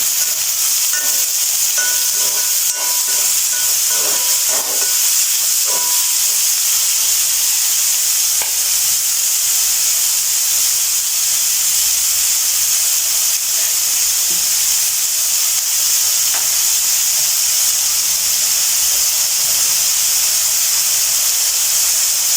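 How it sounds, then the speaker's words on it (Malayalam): Small onions frying in a pan with salt, stirred: a steady, loud sizzle and hiss fills the whole stretch, with scattered clicks and scrapes of stirring early on and no talking. "ഈ ചെറിയ ഉള്ളി ഇട്ട് കൊടുത്തതിന് ശേഷം കുറച്ച് ഉപ്പും കൂടെ ഇട്ട് ഇളക്കി കൊടുക്കും."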